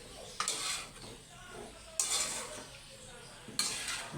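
Pork adobo is stirred in a pan in a quiet kitchen, with three separate bursts of scraping and sloshing about a second and a half apart over a low simmer.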